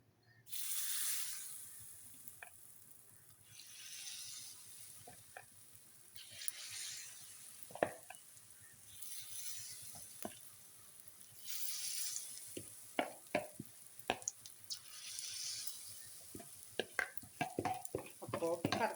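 Chicken unniyappam batter hisses and sizzles as it is ladled into hot oil, a steady bubbling fry with scattered sharp crackles and pops that grow busier toward the end, with no talking.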